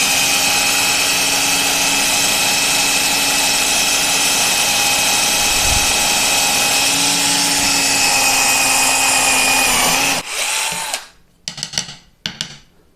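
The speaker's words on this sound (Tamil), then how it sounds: "நம்ம வந்துட்டு சின்ன ட்ரில்லில் வந்துட்டு ஒரு போட்டு பார்க்கலாம்" A Buildskill cordless drill bores into teak wood with a small bit, giving a loud, steady high whine for about ten seconds. It then stops abruptly, followed by a few short bursts.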